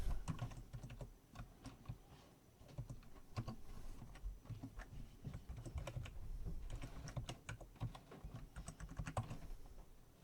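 A password is typed on a computer keyboard to sign in, with quick irregular key clicks in short bursts and brief pauses, close and quiet with no talking.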